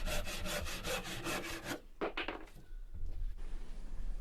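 Hand sawing through a wooden pole, a quick run of rhythmic rasping strokes up close, then a pause and a few scraping sounds as the piece comes free, with no talking.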